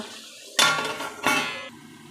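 A lid is set onto a pan of frying mutton on the stove, giving two distinct metallic clanks with a ringing tail, close and fairly loud, with quiet sizzling between.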